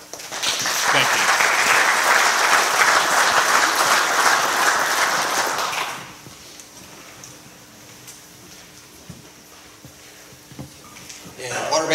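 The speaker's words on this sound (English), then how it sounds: "they deserve a round of applause for all their hard work" Audience at an annual meeting applauds loudly for about six seconds, then the clapping stops abruptly, leaving quiet room noise with faint rustling and a few knocks.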